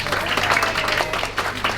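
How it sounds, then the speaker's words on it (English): An audience applauds for a bar chef at a gathering in Portugal, steady dense clapping filling the room close by with crowd noise mixed in. "Round of applause."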